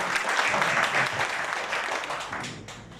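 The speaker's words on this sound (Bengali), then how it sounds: "দুজনের জন্য একটা জোরে হাততালি" Loud audience applause fills a training seminar hall for two people, a dense steady clatter of many hands that eases slightly toward the end.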